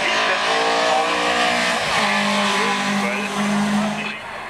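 A VW Golf two-door race car charges past at the Gurnigel hill climb, its engine note loud and sustained with a brief tire-squeal-like dip midway, then fading slightly at the end; no one speaks.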